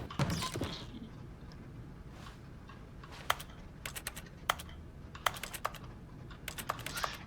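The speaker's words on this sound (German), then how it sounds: "wenn man selber auf die Tastatur drückt, dass man so ein Klicken hört" Keyboard clicks in the video game The Stanley Parable, a string of sharp separate key taps in uneven rhythm, close and distinct over a low background hiss.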